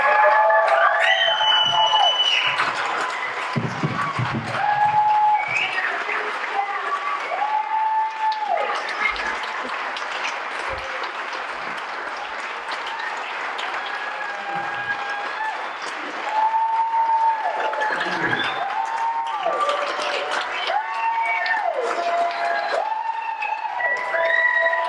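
Audience applause fills a room at a 2021 Warriors farewell dinner, sustained loud clapping lasting throughout, with some cheering and tonal music or sound cues layered over it.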